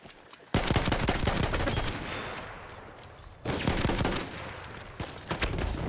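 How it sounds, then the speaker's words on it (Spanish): An enemy machine gun fires in the video game Battlefield 1, two long bursts of rapid automatic fire with a brief lull between them, loud and sustained, with scattered extra shots near the end. "¡Es una ametralladora enemiga!"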